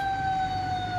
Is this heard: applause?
no